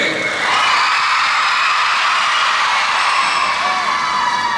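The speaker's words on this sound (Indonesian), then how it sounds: "Tepuk tangan paling meriah, betul-betul paling meriah." Indoor crowd at a cooperative's annual members' meeting in Indonesia, attended by a minister and a governor, roars and cheers steadily for several seconds, a dense continuous wash of voices and applause.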